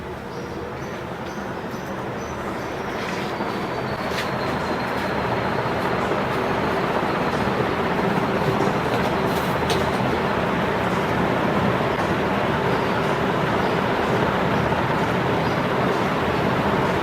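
A repaired ceiling fan runs steadily after a speed fix, a constant broadband whir and air rush with a faint tonal hum that holds level throughout, close and fairly loud.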